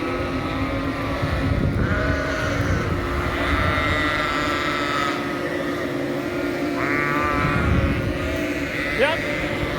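Sheep on a farm bleat several times at a moderate distance, with wavering calls rising over a steady engine drone and someone talking throughout.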